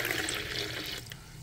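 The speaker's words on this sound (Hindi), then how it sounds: "इतना ही पानी डाल दूंगी और इसमें अभी मैदा जाएगा।" Water is poured into a bowl of flour batter for french fries, a steady close splashing trickle that eases off near the end.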